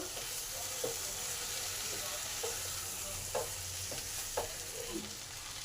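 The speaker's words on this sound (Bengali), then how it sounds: "এর মধ্যে পটলগুলোকে মিশিয়ে দিলাম। এবার সব কিছু একসঙ্গে ভালো করে কষে নেব।" Pointed gourd and potato are sautéed with spice paste in a pan, giving a constant low sizzle punctuated by occasional soft spatula scrapes as the pieces are turned.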